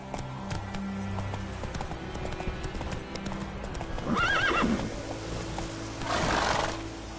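A horse in The Witcher 3 video game gallops with steady clip-clop hoofbeats, then lets out loud neighs partway through and again near the end, over an ambient game background.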